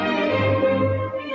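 Mozart performed by a large ensemble of many players, heard as sustained, full harmonic tones that hold steadily at a moderate level throughout the short excerpt, with no voices.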